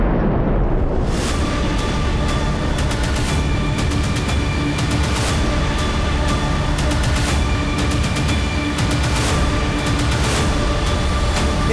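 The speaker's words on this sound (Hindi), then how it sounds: "ये तो छोटा सा धमाका था।" A deep, sustained rumbling blast of a building explosion fills the clip, loud and continuous, with a dense roar and crackling debris after a brief quiet start.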